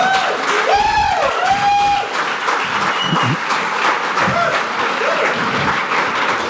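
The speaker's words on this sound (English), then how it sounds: "Can we get a round of applause for" An audience at a Steemit panel discussion breaks into steady, full applause, sustained clapping filling the room throughout with no talk over it.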